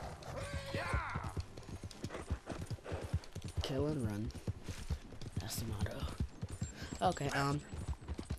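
Rapid, rhythmic hoofbeats of a horse in Red Dead Redemption 2 clip-clop throughout at a steady trot, with someone talking over them and a brief whinny in the middle.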